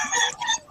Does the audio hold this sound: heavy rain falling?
no